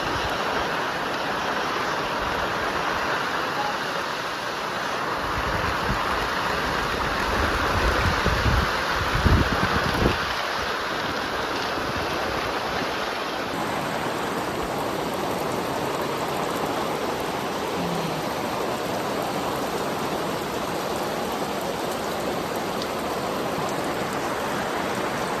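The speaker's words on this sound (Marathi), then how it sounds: "खूपच पाऊस आलाय." Heavy rain pours steadily over a village, a dense, even wash of falling water that stays loud and constant throughout, with a slightly heavier patch midway and no voices.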